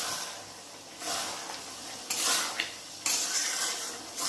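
A spatula stirs cumin and chili powders in a hot pan, making a sizzling hiss with several louder sweeping scrapes every second or so; the sounds are close and alone.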